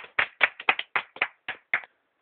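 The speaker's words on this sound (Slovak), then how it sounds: "poprosím veľký potlesk pre pána Patrika." Applause from a small studio audience at the close of a Slovak TV show segment: about nine distinct clapping bursts in uneven rhythm, fairly close and clear, ending abruptly with no talk over them.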